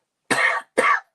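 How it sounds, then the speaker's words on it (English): Two harsh adult male coughs in quick succession, close and fairly loud, with a short pause between them and silence on either side. "Respiratory distress, yes, probably why he's bringing me this cough right now."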